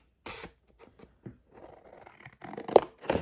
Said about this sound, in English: And I'll cut 2 of this size down.